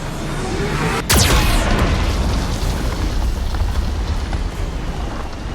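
A Geth cannon fires in Mass Effect 2 Legendary Edition during the Project Overlord mission: one sudden, loud explosive blast followed by a heavy, continuous roaring rumble that fills the rest of the clip.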